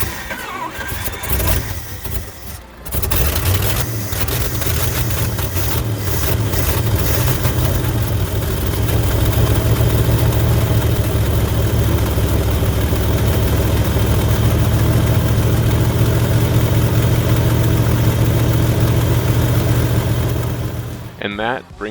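A 1970 Dodge D200 pickup truck engine runs at a steady idle, a loud continuous low rumble that follows a brief start-up surge and stays close throughout before cutting off near the end.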